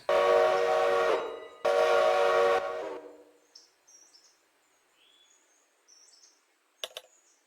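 A train departing on the Dubkir Valley Railway gives two long, loud whistle blasts, followed by quiet with faint birdsong and a brief sharp sound near the end.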